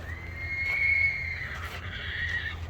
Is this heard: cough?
no